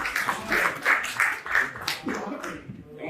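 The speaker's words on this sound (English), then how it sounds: "So if we can give a big round of applause" Big round of applause from an audience at a rites of passage graduation ceremony, rhythmic bursts of close clapping with voices and talk mixed in, thinning out in the last second.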